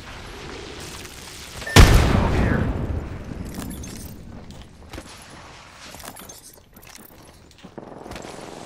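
A frag grenade bursts with a loud boom in a video game, followed by a decaying rumble, with scattered distant gunfire and a few voices talking during the firefight.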